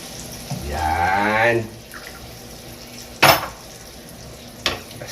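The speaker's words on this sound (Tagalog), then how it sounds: "Maglagay tayo ng konting tubig mga kablak." A short gush of a little water pouring into a pan of pancit guisado made with spaghetti, followed by a sharp sizzling burst and a later softer hiss, close by.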